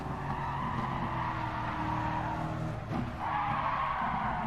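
A race car in a racing video game slides through a corner too fast, with a continuous engine drone and a sustained squealing tire skid, briefly dipping before the screech resumes.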